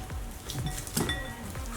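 Knife and fork clink and scrape against a dish while cooked chicken meat is pulled from the bone, a few light close metallic taps and scrapes, fairly quiet and without talk.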